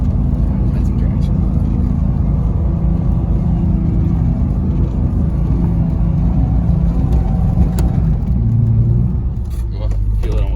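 An off-road vehicle's engine drones and revs steadily as it climbs a steep snowy hill while hunting for traction. The low, loud rumble holds throughout the whole stretch.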